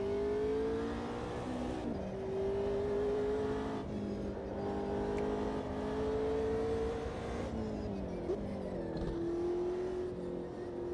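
A McLaren 720S GT3 race car engine howls through a racing video game, revving high and steadily with shifts and brief lifts, loud and continuous without talk.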